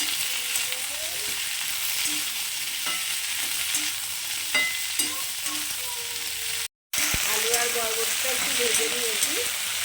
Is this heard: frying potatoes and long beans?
yes